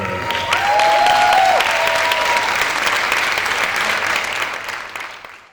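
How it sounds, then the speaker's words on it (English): A crowd applauds loudly with steady clapping and a few whistles, gradually fading out over several seconds. "let's hear it for Dr. Barry Tishler"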